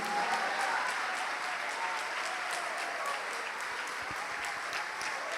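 A church congregation applauds during a worship service, a dense, steady wash of clapping hands that fills the room and holds evenly throughout.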